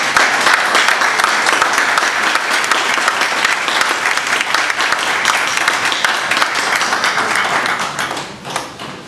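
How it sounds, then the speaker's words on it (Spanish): An audience applauds the author of a poem at a reading, a dense, steady roar of many hands clapping close and loud for several seconds before fading near the end. "Recibimos con un aplauso al autor de esta poesía."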